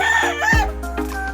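A free-range rooster's crow rings out close by, a strained, wavering call that breaks off abruptly, with low rumbling noise underneath.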